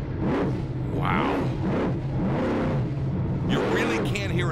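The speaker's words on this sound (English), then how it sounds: "You really can hear and feel what we always talk about, the big horsepower that Jimmy's trucks make." Monster truck engine revving hard during a freestyle run, the throttle pumped in rapid bursts that swell and drop over a steady loud roar, with commentators talking over it throughout.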